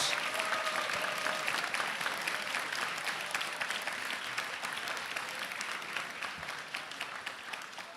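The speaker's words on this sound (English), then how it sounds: "Everybody give them a huge round of applause." Steady, sustained applause from a large crowd at a 3v3 competition grand final in San Diego, continuous clapping at an even level throughout, slightly fading toward the end.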